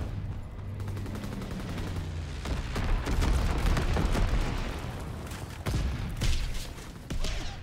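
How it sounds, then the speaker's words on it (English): Incendiary bombs dropped by a bomber in Call of Duty WWII burst into a dense, continuous barrage of loud booms and crackling gunfire, with low rumbling explosions swelling and fading over several seconds. "Bomber inbound. Dropping incendiary."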